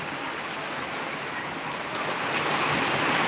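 Heavy rain pouring down steadily outdoors, a dense continuous hiss that grows slightly louder toward the end, with no voices.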